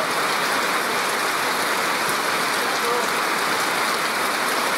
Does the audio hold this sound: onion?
no